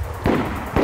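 Two sharp gunshots in the survival game DayZ on the Namalsk map, fairly loud with a short echo, about half a second apart.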